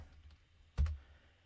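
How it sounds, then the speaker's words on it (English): A single keypress on a computer keyboard while typing a command into a Linux command line, heard as one short, close click in a quiet room. "you just go into your command line and you type in rippled server _info"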